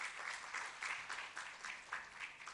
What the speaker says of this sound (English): May I please have a huge round of applause for everyone present in the conference hall.